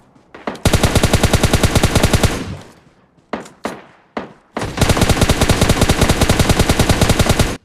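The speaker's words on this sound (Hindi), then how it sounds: "लेकिन मैं यहाँ पर मैं भागने नहीं देता, फायर करके रोक लेता उस बंदे को" Rapid automatic gunfire in a battle-royale shooter game, loud and close: a long sustained burst, then a few separate single shots, then another long continuous burst, with no talk over it.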